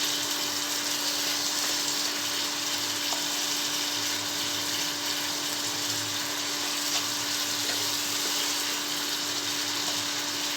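Tomato masala fries in a pan being stirred during outdoor village cooking in Ooty, giving a steady, even sizzling hiss with a faint constant hum behind it.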